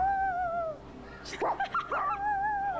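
A person imitating a dog, giving a short burst of yippy barks and whimpers up close between stretches of a steady tonal background sound.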